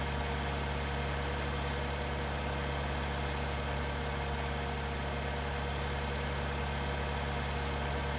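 Tractor engine running steadily in Farming Simulator 19, a constant loud droning hum with low rumble and a fan-like hiss, unbroken and with no talking.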